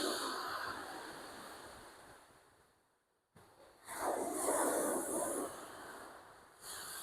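Big waves break on Hastings beach in two rushing surges, the first fading into near silence before the second, louder wash builds and slowly recedes.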